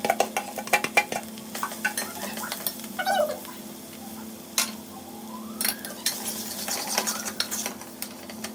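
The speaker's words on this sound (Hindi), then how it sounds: "यहाँ पर मैंने पोटैटो की सब्ज़ी लिया है और देखिए मैं उसको बना देती हूँ" Potato curry being stirred in a pan, with a series of sharp spoon-on-metal scrapes and clinks at irregular intervals over a soft background hum, close and fairly loud, no one speaking.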